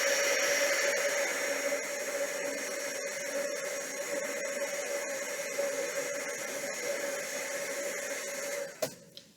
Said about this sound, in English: I'm going to have to dry this with a dryer, so I'm already apologizing for the sound.